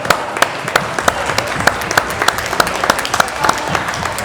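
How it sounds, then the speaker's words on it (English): A closing round of applause from participants at a community evening event in a middle school, many hands clapping steadily, with a few sharp, loud individual claps standing out near the listener. "hope everybody gives themselves a final round of applause for participating and making this successful"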